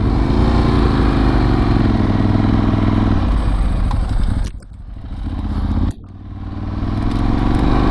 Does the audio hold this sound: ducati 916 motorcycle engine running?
yes